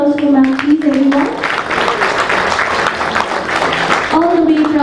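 An audience at an interior design awards ceremony held at the Taj West End in Bangalore breaks into applause, a dense, loud wash of clapping lasting several seconds, with an announcer's voice speaking at the start and end.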